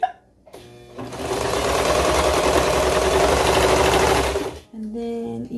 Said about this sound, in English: so I'm gonna go ahead and keep serging